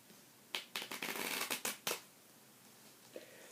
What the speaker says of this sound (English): And now we will shuffle these two piles together.